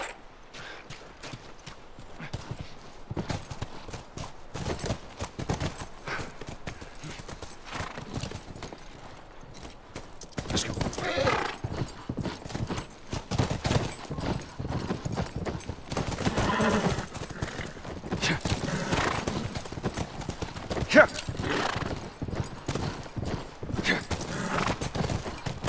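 Steady clip-clop of horse hooves at a trot in The Last of Us, continuous and rhythmic, with occasional whinnies and scattered sharp bangs in the background.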